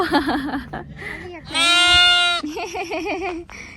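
Sheep bleating in the open on a hot day, with several wavering calls and one long, loud sustained bleat in the middle. Someone talks at times between the calls.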